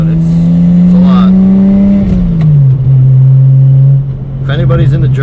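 BMW 335is with an N54 engine, an ATM 3.5-inch single race exhaust and a Speedtech bottom-mount single turbo kit, idling loud and close with a heavy droning tone that dips slightly, a voice talking over it.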